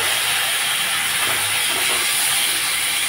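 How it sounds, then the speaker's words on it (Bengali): Ridge gourd paste hits a hot pan of fried potatoes for a light singi fish curry, producing a loud, even hiss that holds for the whole moment without speech. "এখন দিয়ে দিচ্ছি ঝিঙা বাটা।"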